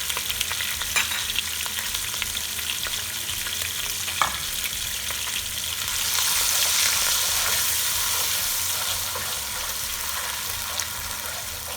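Ginger garlic paste frying in oil for chicken jalfrezi, a steady close sizzle that swells louder partway through, with a few faint utensil taps and no voices.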